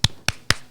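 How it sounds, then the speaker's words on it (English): Three sharp, close hand claps in quick even succession, each a crisp dry smack with a short decay, alone with no talk around them. "I'll do a little clap"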